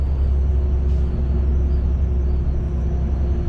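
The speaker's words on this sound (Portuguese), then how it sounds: "Ó, acionou o freio motor." Engine brake engaged on a Volvo FH460 truck during a descent: a loud, steady low engine rumble with a constant drone, heard from inside the cab without pause.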